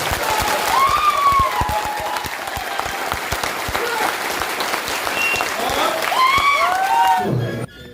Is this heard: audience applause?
yes